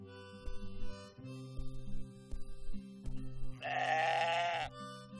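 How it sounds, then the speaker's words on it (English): Sheep bleat in the video game Moirai, a few distinct bleats over a steady, tonal game music backdrop, with one long, loud bleat near the end. "Hello, sheep."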